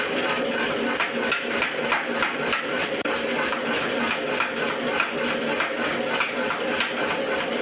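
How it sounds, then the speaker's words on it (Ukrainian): Iron is hammered in a forge where metal staples are made. Sharp ringing blows repeat at a fast, steady pace, loud and close, with no voices. "У цій кузні звук заліза не стихає ні на мить."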